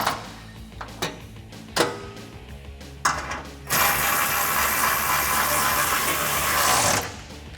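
A ratchet wrench with a 10 mm socket tightening exhaust nuts on a Jeep Gladiator JT: several separate clicks and short bursts, then a long continuous fast ratcheting run lasting several seconds before stopping.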